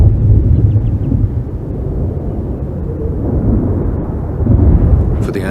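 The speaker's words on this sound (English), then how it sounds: "the sound of the approaching storm is a familiar one" Low, heavy rumble of thunder from a storm approaching over open heathland with peat bogs, rolling continuously and swelling again toward the end, with no voices.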